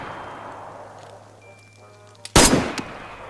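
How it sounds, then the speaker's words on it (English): An AK rifle fires in a video game: after a quiet stretch of low hum and faint game tones, one sudden loud burst of automatic fire rings out briefly and then trails off. "Is that an AK? Like a full AK?"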